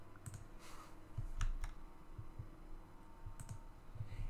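Soft, scattered computer mouse clicks, a few quiet taps spaced irregularly over a faint steady background hum.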